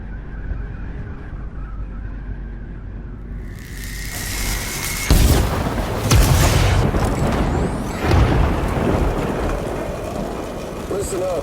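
Rain and thunder in the video game Death Stranding: a quiet scene gives way to a heavy boom and a dense, rushing downpour that swells and carries on, with voices heard partway through.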